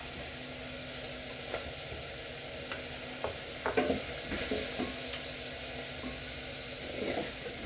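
Spices sizzle softly in hot oil in a pot while a spoon stirs them, with scattered light scrapes and clinks over a steady quiet frying hiss and no talking.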